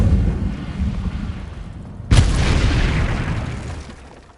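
Incendio fire spell cast in Hogwarts Legacy, a sudden loud blast hitting at once, then a broad roaring rush that fades slowly over the next couple of seconds, with no talk.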